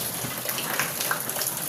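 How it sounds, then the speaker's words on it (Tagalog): Heavy rain pours down in a dense, constant rushing hiss, loud and close, with no voices. "Sobrang lakas pa rin ng ulan"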